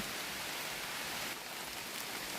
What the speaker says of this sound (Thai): เสียงฝนด้วยครับ